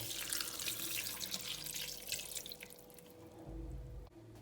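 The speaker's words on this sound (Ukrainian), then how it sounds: "І додаємо воду." Water poured into a multicooker pot holding lentils, a faint splashing trickle that fades and then returns as a low gush toward the end.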